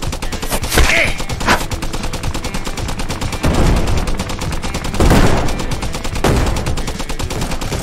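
Loud, sustained gunfire in the VR shooter Guns And Stories Bulletproof, rapid repeated shots and bursts close up, with ringing impacts and no talk over them.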